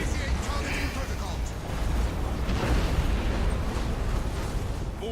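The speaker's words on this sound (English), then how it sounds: "That's what this mode's all about: explosions and a slight amount of lag." Dense rumbling explosions from a large space fleet battle in Battlefleet Gothic: Armada 2 roll on continuously as a loud, booming wash with no clear gaps.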